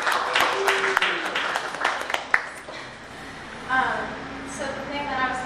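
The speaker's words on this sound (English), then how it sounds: "let's clap for them" Audience clapping for recent high school graduates at a literary event, a short burst of scattered hand claps that fades quickly, with people talking before and after.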